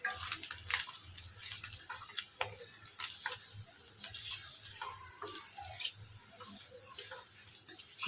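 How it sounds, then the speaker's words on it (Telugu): Chicken fries in a pan with browned onions and chili powder, a steady soft crackle and sizzle with scattered ticking pops, fairly faint and continuous. "చికెన్ అయితే బాగా ఫ్రై అయిపోయింది."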